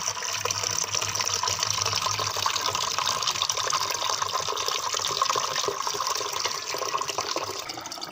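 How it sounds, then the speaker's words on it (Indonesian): Tap water gushes steadily into a container used to boil a home herbal remedy for kidney stones, a continuous loud pouring stream with no break. "Nah, tuang air."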